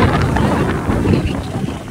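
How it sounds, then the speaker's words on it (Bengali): Strong wind buffets the microphone at a crowded bathing beach by the sea, a steady loud rumbling roar with no talk. "আজকে অনেক বাতাস"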